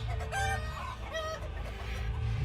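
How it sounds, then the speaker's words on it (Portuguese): Several hens cluck and squawk at once in an agitated chorus inside a henhouse, close by and overlapping, over a low steady background hum. "Parecia que todas as galinhas cacarejavam ao mesmo tempo."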